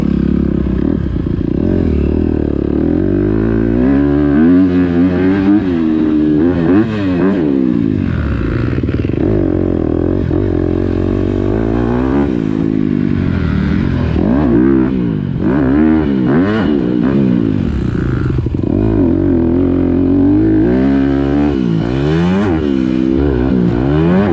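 KTM 150SX two-stroke dirt bike ridden off-road, a loud close engine revving up and down through repeated throttle bursts and gear changes, continuous with no talk.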